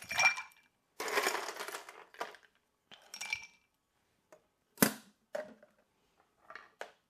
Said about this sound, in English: Add a little ice.